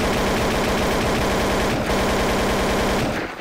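Rapid automatic gunfire in a Source engine video game, sustained bursts hammering a brush block created in Hammer Editor, loud and continuous throughout with a brief dip near the middle and no talking.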